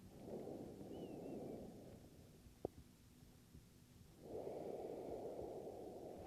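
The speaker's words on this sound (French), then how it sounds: "Une longue respiration." Long, slow breaths during an evening beginner yoga session: a deep, airy inhale-exhale lasting nearly two seconds, a quiet pause, then another long breath, close and steady with no talking.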